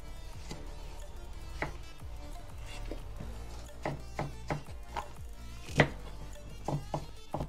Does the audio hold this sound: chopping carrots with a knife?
yes